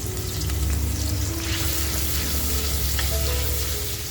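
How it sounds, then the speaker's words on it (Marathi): Garlic and asafoetida frying in hot oil for a spicy mutton curry, a loud continuous sizzle close up with occasional faint stirring sounds and no talking. "बघा, लसूण आणि हिंग असं छान फ्राय झालंय आणि बघा तेलात अगदी मस्त एकजीव झालेलं आहे."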